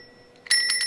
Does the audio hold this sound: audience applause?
no